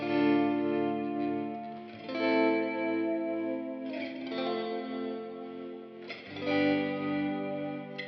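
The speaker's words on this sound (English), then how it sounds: "we've got a strum, another strum, possibly a softer strum, and then yet another chord strum" Electric guitar chords strummed four times, loud, loud, soft, loud, with the third strum noticeably weaker, played dry without a compressor and ringing out through effects with chorus-like shimmer and sustain.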